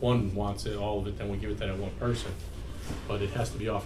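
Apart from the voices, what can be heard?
No everyday noise stands out behind the speech.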